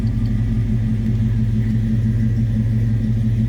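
A 1964 Chevrolet Chevelle Malibu SS with a 283 V8 idles after a cold start, a loud, steady low rumble with an even, throbbing pulse close by.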